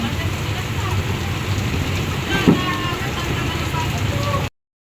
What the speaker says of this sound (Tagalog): Lakas po yung ulan.